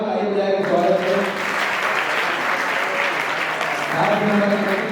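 Audience applause welcoming a local MLA at a community event in India, with broad sustained clapping under overlapping voices, loud and continuous across the whole stretch.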